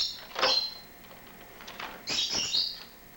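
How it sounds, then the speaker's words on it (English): A pet bird chirps indoors in the background, with two bright bursts of shrill tweets about a second and a half apart, moderately close with nothing else prominent. "I apologize for the bird in the background. He likes to make noise."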